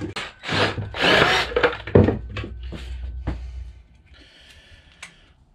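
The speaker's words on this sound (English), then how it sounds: "Alright, a little too powerful of a drill" Short bursts of a power drill biting into wood for a homemade compost bin, loud and close, stopping and starting, then a quieter whir trailing off at the end.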